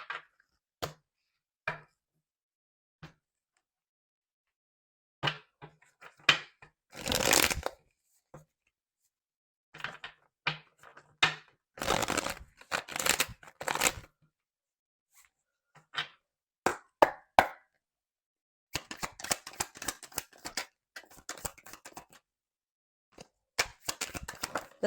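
Tarot cards being shuffled and handled during a love reading, heard as scattered bursts of crisp riffling and slapping with quiet pauses between, close up and with no talking.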